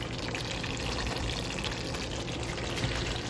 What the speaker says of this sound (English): we're going to pour the rice into the sauce now